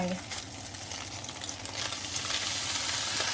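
Egg frying in oil in a pan for stir-fried konjac rice, a steady close sizzle and crackle that grows slightly louder and denser toward the end.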